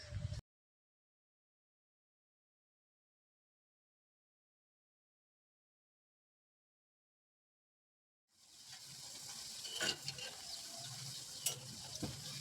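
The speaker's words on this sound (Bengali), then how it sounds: "পিঠ ওপিঠ উলট পালট করে ভালোভাবে লাল লাল করে ভেজে নেব।" Raw green banana koftas fry in hot mustard oil in a kadai and are turned over. The sizzle and stirring come in loud and close after a long stretch of silence.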